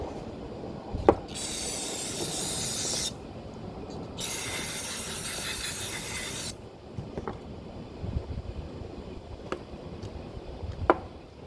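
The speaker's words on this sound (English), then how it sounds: "Let's just spray it right out on the table here so everybody can see what's in there." Aerosol cleaner sprayed into the accelerator pump of a worn Edelbrock carburetor on a table: two loud, bright hissing bursts of about two seconds each, separated by a pause, followed by quieter clinks and handling noises.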